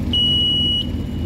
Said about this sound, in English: the alarm will start to warn the pilot that there is a stall